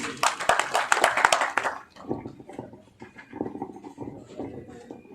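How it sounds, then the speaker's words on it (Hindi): An audience at a media outlet's celebration event claps in a short burst of loud, rapid hand claps, which then fades into quieter scattered sound and talking. "सुरेश जी सांबा से जो ब्यूरो हैं उनके लिए जोरदार तालियां"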